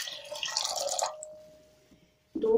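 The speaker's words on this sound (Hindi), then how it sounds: "यहाँ पर मैं 2 गिलास के करीब इसमें पानी शामिल कर रही हूँ यखनी के लिए।" About two glasses of water are poured into a cooking pot for chicken yakhni: a short splashing pour that tapers into quiet, followed by a brief knock at the end.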